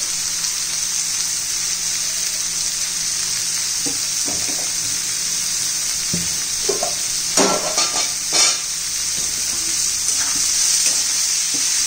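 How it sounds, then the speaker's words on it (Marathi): Tomato and potato poha stir-fried in a pan after salt is added, an even hiss of frying with occasional spatula scrapes and knocks, close up and with no talk. "मीठ घातल्यावर पुन्हा एखादा मिनिट म्हणजे टोमॅटो पण मऊ होतो, परतून घ्यायचे."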